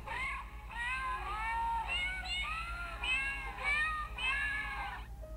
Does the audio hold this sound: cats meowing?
yes